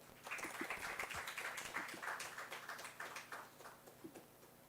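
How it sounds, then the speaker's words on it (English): Audience applause welcoming a speaker at an ecological urbanism conference, a dense run of clapping from a hall crowd that holds steady for several seconds and then eases off toward the end. "With huge round of applause,"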